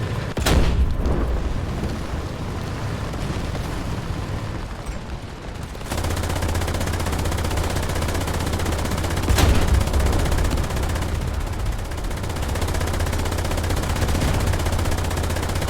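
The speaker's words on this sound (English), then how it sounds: "go ahead and chuck your artillery out as far ahead of you as you can get it" Video game tank battle during a Ju 87 G simulation event: steady rumbling gunfire and machine-gun bursts with sharp booming artillery blasts punctuating the din, continuous and loud.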